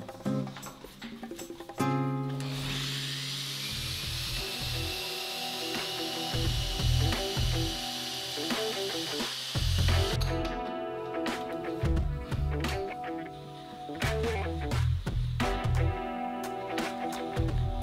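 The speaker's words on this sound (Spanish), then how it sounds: "Aquí también estoy lijando los cantos." The edges of a wooden end-grain cutting board are sanded in a woodworking shop, giving close, loud, rhythmic rubbing strokes with occasional knocks and brief mechanical whirs between passes.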